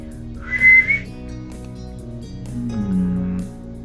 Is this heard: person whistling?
yes